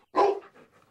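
A single loud, close dog bark, short and full, followed by a faint trailing echo and then quiet.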